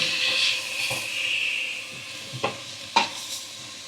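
Food sautéing in a pan in a home kitchen, a soft steady sizzle with a few sharp utensil scrapes and clinks near the end, close and fairly quiet.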